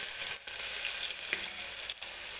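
Onion and chopped garlic frying in oil for dal khichdi, a steady close sizzle throughout with two brief clattering stirs, no talking.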